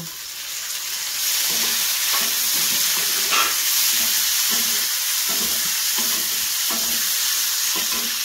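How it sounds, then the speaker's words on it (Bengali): Chopped tomato goes into onions frying in a pan. The sizzle swells after a second, then holds a loud, steady crackle and hiss with intermittent stirring scrapes. "এখন আমি এর মধ্যে কাটা টমেটোটা দিয়ে দেব।"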